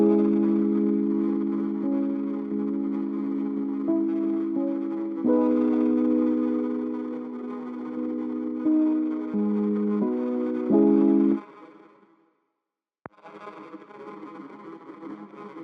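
A dark R&B beat built in FL Studio, led by an eerie sustained synth pad. Layered chords shift across several bars, then the sound cuts to a brief silence and the pad resumes more faintly.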